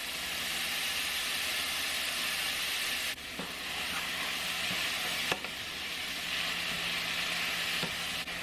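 Zucchini frying in a pan, a loud continuous sizzle and hiss with a few soft clicks and knocks from stirring, heard up close with no talking.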